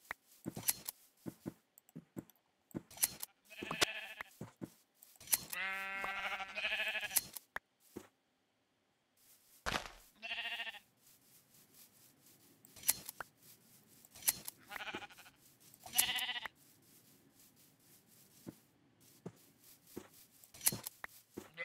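Sheep bleating in the blocky game world of Minecraft with the Tekkit modpack as it is sheared, several distinct bleats spread among short clicky game sounds and snips, with quiet gaps between them.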